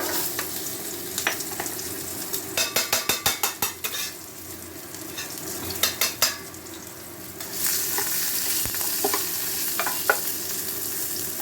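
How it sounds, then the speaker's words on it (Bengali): Sliced onion and whole garlic cloves sautéing in oil for a hilsa dish, a loud close sizzle with a burst of rapid rhythmic spoon taps and clinks on the pan midway, then a steadier fry hiss. "তাই আমি আলাদা করে তেলেই এটা সাঁতলে করব। তাই প্রথমে এতে দিয়ে দিলাম পেঁয়াজ লম্বা করে কাটা আর গোটা রসুন"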